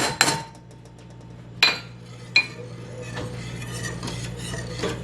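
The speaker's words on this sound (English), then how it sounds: "So we're going to stir in the cocoa powder." Cocoa powder being stirred into hot chocolate in a pan: a few sharp clinks of a utensil against the pan at the start, then soft continuous scraping and swirling under a low background hum.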